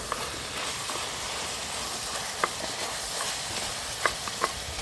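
Boiled mutton being stirred with chili powder for mutton rolls: a faint, steady low sizzle runs throughout, broken by a few soft spoon scrapes and clicks against the pan.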